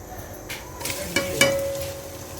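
Onions tipped into half a cup of hot oil set off a rising crackle and hiss after a couple of sharp clatters, the sizzle building and then holding steady, close by, with no one talking.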